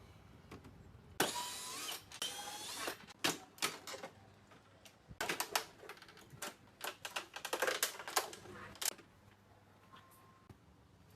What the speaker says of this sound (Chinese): 插头直接拔掉，然后我们把壳子拆开看看